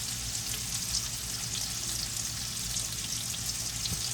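Thick, juicy ribeye steaks sear in a pan with a steady, close hiss and crackle of fat that holds evenly throughout, with no talking.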